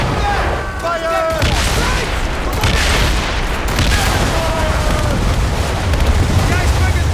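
Ship cannons fire in Assassin's Creed Rogue, heavy rolling booms under a constant loud roar of battle. Shouted voices break in over the barrage.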